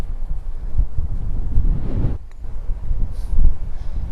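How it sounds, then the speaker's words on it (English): Strong wind blows across an open golf course, a loud continuous low buffeting rush battering the microphone, with a brief lull midway before the gusts surge back. "the wind's that strong, it's blowing"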